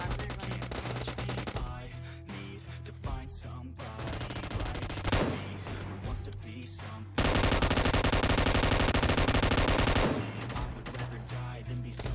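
Gunfire in the mobile video game PUBG Mobile, loud continuous bursts of automatic shots with short pauses, rising into a dense, sustained volley near the end, close and dominant throughout.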